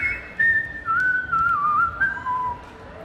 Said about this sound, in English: So, for the next song, I need you all to whistle.